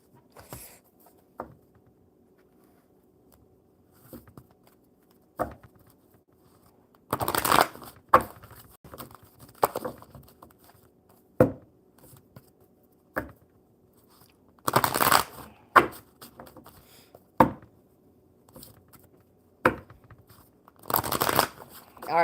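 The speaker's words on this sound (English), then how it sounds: "All right, one more good shuffle, Bella." Playing cards shuffled and handled during a relaxed card-reading session: a series of short, sharp riffles and taps spaced irregularly over a quiet room, close and moderately loud.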